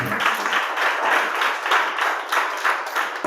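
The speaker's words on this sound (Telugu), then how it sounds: "అందరూ చప్పట్లు కొడతాం" A church congregation claps together as a pastor is welcomed, a dense, fairly loud burst of applause that swells and ebbs steadily with no talking over it.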